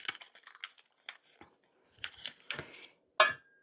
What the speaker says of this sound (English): you're just going to take it and cut it into little cubes, like this.